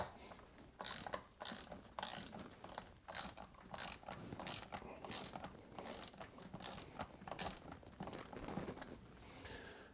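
A ratchet works loose the parts of a 415 chain conversion on a Yamaha R3 motorcycle, rapid clicking pawl bursts repeating steadily and close up across the whole stretch, with no talk.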